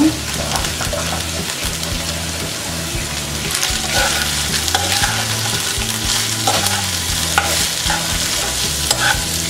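Chicken with salt and chopped coriander leaves fries in a pan, giving a loud continuous sizzle with steady stirring and scraping over a low musical background, and no talk.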